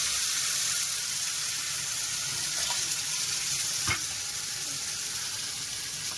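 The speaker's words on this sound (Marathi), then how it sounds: "आता आपण चटणीचं वाटण टाकून घेऊ" Coconut chutney paste sizzles in a tempering of curry leaves and red chillies, a steady close hiss holding throughout with a faint scrape partway through, and no voices.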